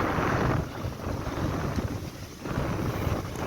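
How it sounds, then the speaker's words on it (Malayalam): Strong wind blowing hard across the microphone outdoors, a loud, continuous roaring rush with gusty swells that dip and surge again, with no voices. "നിങ്ങൾക്ക് ഈ കാറ്റിൻ്റെ സൗണ്ട് അറിയാൻ പറ്റുന്നുണ്ടായിരിക്കും കേട്ടോ."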